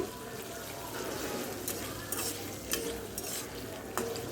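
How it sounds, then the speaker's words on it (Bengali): Onion, green chili and shrimp fry in hot oil in a wok, a constant close sizzle with occasional scraping clicks from stirring. "পেঁয়াজ কাঁচামরিচ এবং চিংড়ি মাছটা ভালো করে ভেজে নিতে হবে"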